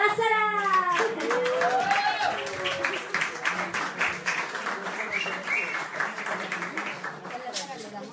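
An audience breaks into applause for a singer at a gala show: a dense, sustained wash of clapping, loud at first and slowly easing, with a voice and cheering woven through it.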